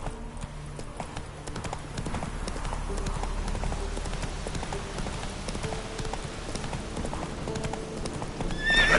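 Horse hooves clip-clop at a steady gallop in The Witcher 3 video game, with a whinny near the end, over a constant ambient game background and a voice urging the horse on.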